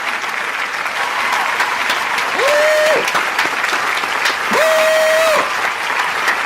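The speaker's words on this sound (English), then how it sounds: "Put the clapping thing on." Applause sound effect played back from a computer: dense, steady clapping fills the whole stretch, with two sustained whistle-like tones rising above it partway through.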